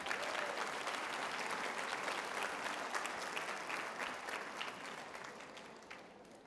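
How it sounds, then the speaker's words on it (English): Community audience members at an opening presentation applaud themselves, even continuous clapping from a sizable crowd that gradually fades toward the end, with no talking over it. "give yourselves a round of applause."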